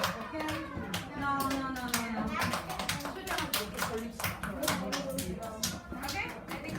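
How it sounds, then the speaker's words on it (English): A group of children claps together for their friends at a classroom open house, a dense run of sharp, close hand claps with a few children's voices mixed in. "can you clap for your friends?"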